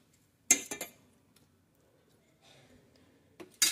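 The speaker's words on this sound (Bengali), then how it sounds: "এখন এর ভিতরে মিশিয়ে দেব একটু তাল মিশ্রি।" A spoon clinks against a pot of boiling tea as palm sugar candy is stirred in: a few sharp metallic taps, a quiet gap with faint bubbling, then more clinks.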